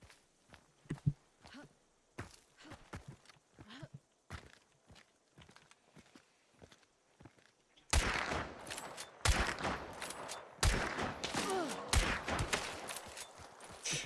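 Sniper rifle shots in a video game crack out as scattered sharp reports over quiet footstep-like taps, then a dense, loud stretch of rapid fire and clatter takes over in the second half, with no voices.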